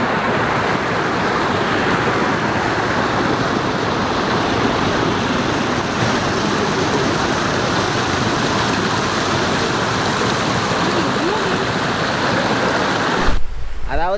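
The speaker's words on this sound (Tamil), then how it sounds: "அந்த தண்ணியோட சவுண்டு அப்படியே அருமையாக இருக்குது." A stream of water rushes under a bridge near Yercaud in a loud, continuous, dense roar that holds steady throughout, then cuts off sharply near the end.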